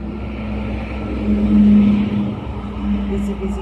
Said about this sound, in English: Busy traffic.